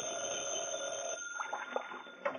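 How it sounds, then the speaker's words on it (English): An old-fashioned telephone rings in an office, a sustained bell tone lasting about a second, followed by faint clicks and small handling sounds. "when the phone rang"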